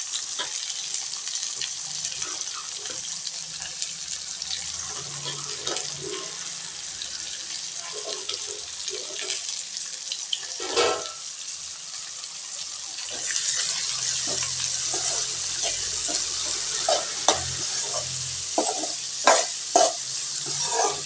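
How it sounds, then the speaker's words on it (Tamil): Onions sauté in generous oil in a pan for a boneless goat head fry, with a steady soft sizzle and occasional stirring scrapes heard close up, no talk. "வெங்காயம் நல்லா வதங்கணுங்க."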